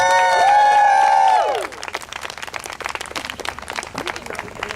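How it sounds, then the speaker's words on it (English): Rally crowd applauding a speaker from the Illinois Nurses Association, steady loud clapping and cheering that rises under a brief sung or shouted tone at the start, then continues as dense, even applause throughout. "Please give a big hand for Alice Johnson."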